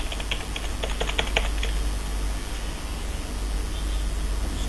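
Keys on a computer keyboard are tapped in a quick burst of about a dozen soft clicks as a password is typed, then stop, leaving a steady low hum of background noise.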